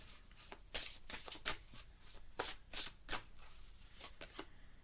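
Tarot cards are shuffled up close in quick, riffling bursts, a series of papery flutters and slaps with short pauses between them.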